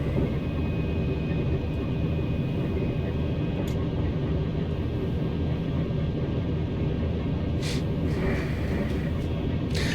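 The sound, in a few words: TGV Duplex high-speed train running, from video game Train Sim World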